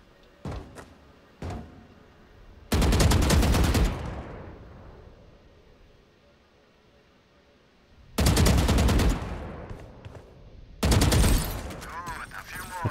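Gunfire from Valorant on a practice range against strafing bots, several loud bursts of rapid automatic shots separated by quieter gaps, with faint single clicks and footstep-like taps between volleys.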